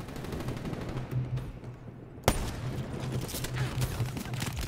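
Gunfire in Black Ops 3 on PC: sustained rapid automatic shooting runs throughout, with one sharp louder shot midway, set against game ambience.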